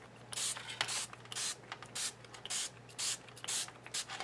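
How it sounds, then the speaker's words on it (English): Close by, a spray bottle fires off repeated short hissing bursts in an uneven rhythm, with brief pauses between sprays. "Let's try to see what it looks like with the spray."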